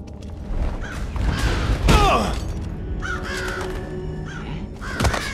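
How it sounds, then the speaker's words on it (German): Raven cawing in the stealth video game Thief, a few hoarse calls rising over murky game ambience with thuds and mechanical noises around them. "Ach so, der Rabe."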